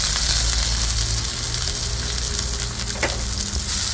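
Onion dropped into a hot pan for ginataang talong, a loud continuous sizzle and crackle of frying with occasional stirring scrapes, close up.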